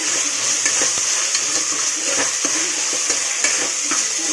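Tomatoes frying in oil for a one-kilo biryani, a continuous close sizzle with occasional stirring scrapes and clinks against the pot, no talking.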